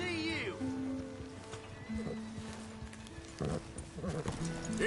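Horse hooves and a whinny in Red Dead Redemption 2, clopping steps and a neigh under voices talking, with ambient game sounds around them.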